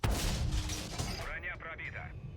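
A tank cannon fires in a tank video game featuring the STRV 122A: a single loud, booming blast that rings for about a second, followed by someone talking briefly.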